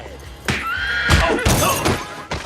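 A horse neighs in several loud, close whinnies, with bursts of snorting and stirring between the calls and no talk over them.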